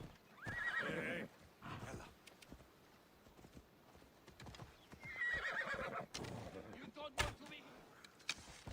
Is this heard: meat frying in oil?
no